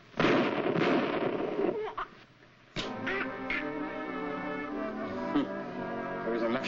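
Gunfire in a 1946 crime film, a dense burst of sharp shots followed by a short lull and further scattered pops and clatter over an old, band-limited soundtrack.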